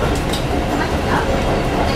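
A six-car commuter train running on rails, a steady dense rumble with rolling wheel noise throughout, loud and close as if heard from inside a carriage.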